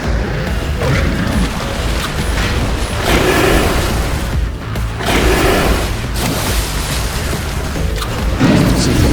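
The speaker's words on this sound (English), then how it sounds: "So he's going to shoot bombs at us" Loud, repeated crashing booms of bombs thrown by a dinosaur boss exploding in Astro Bot, several bursts in succession over busy game sounds.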